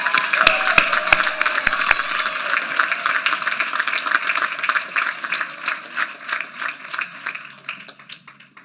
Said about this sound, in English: Give a big round of applause for all of the PPM graduates.